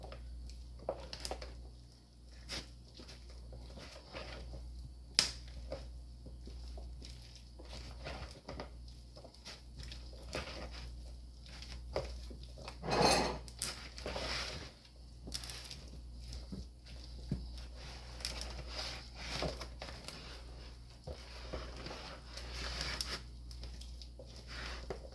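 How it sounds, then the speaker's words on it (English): Loaded baked potato salad is stirred together in a bowl, giving faint, soft squishing and patting sounds with scattered small clicks and scrapes across a long stretch. One sharper knock stands out near the middle. "And just mix all this together."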